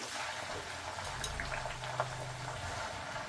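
Gongura leaves simmering with oil in a pot of water, giving a soft continuous bubbling and gentle popping. The sound is faint and steady, with occasional small blips, and no voices are heard.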